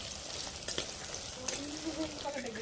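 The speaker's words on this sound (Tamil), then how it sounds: "தக்காளி போட்டு நல்லா வதக்கணும்" Tomatoes frying in a pan for Tamil fish curry: a soft, steady sizzle with a few scraping stirs, quiet and close, with a voice speaking faintly over it.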